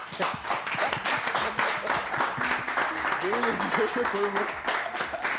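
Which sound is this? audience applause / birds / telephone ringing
audience applause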